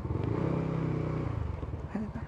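A scooter rides with a steady low engine drone and mechanical rattle that eases off toward the end as it brakes hard on the front brake, close and loud, with no talking.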